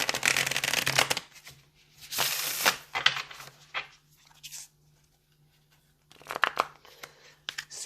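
Tarot cards shuffled by hand in bursts of riffling and sliding, loud and close with brief pauses between rounds and a steady low hum beneath.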